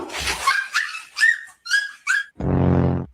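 A small chihuahua squares off against a bully-breed dog, giving a string of sharp, high yelps and yips close by, followed by a longer, lower growling bark at the end.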